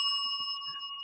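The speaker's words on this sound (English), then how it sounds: "I don't even know how to operate a bell." A bell rings with a steady, bright metallic tone that sustains and slowly fades, with a few soft knocks underneath, close and clear.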